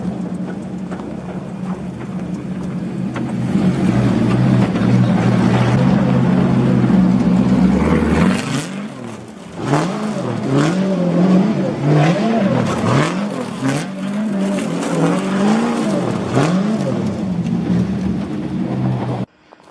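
A Nissan S13 drift car idles loudly and steadily in a backyard, then is revved in repeated rising and falling bursts, close and alone.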